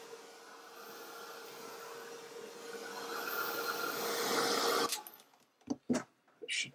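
A heat tool blows in a loud, steady whir for about five seconds to dry paint on a mixed media art journal page, then cuts off and is followed by a few brief handling knocks.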